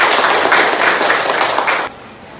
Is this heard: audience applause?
yes